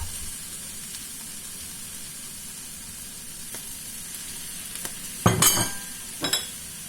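Chicken and noodle stir-fry sizzles steadily in a wok, with a soft continuous hiss and a few sharp clinks and scrapes of stirring toward the end.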